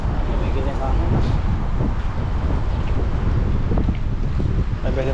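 Strong wind gusts buffet the microphone on an overgrown outdoor trail through tall wild grass, a constant loud rushing roar with people talking faintly underneath.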